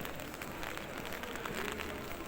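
Light rain falls on a street in Spain, a faint, even patter of drops on surfaces lasting a couple of seconds with no voices.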